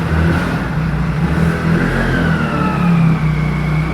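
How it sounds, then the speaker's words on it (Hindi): A motor vehicle engine, likely a passing motorcycle on a village road, hums steadily and fairly loud throughout, swelling slightly near the end with no talk over it. "एक तो इनकी मोटरसाइकिल चली जाए पहले"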